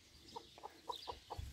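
Chickens at a small coop, a series of about five short, quiet clucks in an even rhythm, followed by a brief low thump.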